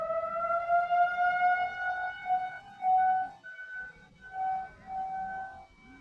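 Civil defense style sirens wail at a distance, their rising and falling tones drifting in and out over about six seconds, fairly faint and heard alone without talk.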